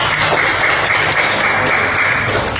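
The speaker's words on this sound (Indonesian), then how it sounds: "Tepuk tangan untuk David" A classroom full of students applauds a classmate named David: steady, dense clapping that fills the room without pause for the whole stretch.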